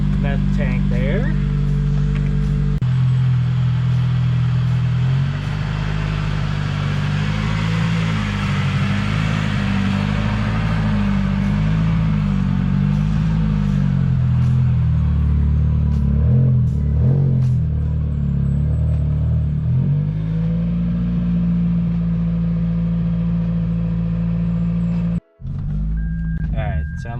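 Supercharged Toyota Celica engine starting after seven months and settling into a steady, loud idle, running continuously close by before cutting off abruptly near the end, with people talking over it.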